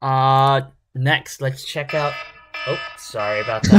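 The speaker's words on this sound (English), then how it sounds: "That's my alarm. That's the 3 p.m." A scheduled 3 p.m. alarm gives a sustained, buzzing tone at the start, and then people talk over the rest.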